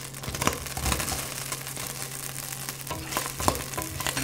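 Onion going into a hot wok greased with rendered pork fat, for sinigang with lagikway, giving a steady broadband sizzle with a few louder crackling bursts and stirring scrapes throughout, no talking.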